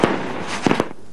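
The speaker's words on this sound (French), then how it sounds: "Ne faire exploser que les pétards autorisés" Firecrackers go off in a few sharp, close bangs: one at the start, then a quick cluster of three cracks shortly after, each ending abruptly with no talking.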